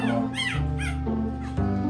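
Several imported dogs at a dog seller's place whimper and yip in short, rising cries over a steady low hum, close by and fairly loud throughout.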